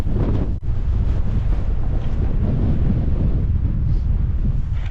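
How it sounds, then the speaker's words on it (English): Strong wind roars and buffets the microphone continuously on an exposed snowy outdoor spot, a loud low rumble with one brief dip near the start, no voices. "To give you an idea of just how windy it is"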